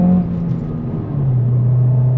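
A 2024 Honda Civic Si, 11th generation, driving with a steady low engine drone inside the cabin, dipping briefly and then rising in pitch as it pulls again.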